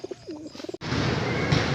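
Racing pigeons coo softly in a few short bursts near the start, then a sudden burst of broad rustling and wing noise fills the rest at a loading station.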